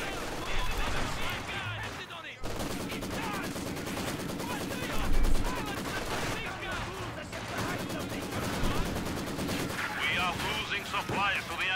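Sustained Company of Heroes 2 battle noise: machine gun fire rattles in dense rapid bursts with scattered gunshots and blasts, continuous and loud, with in-game voice lines spoken over it.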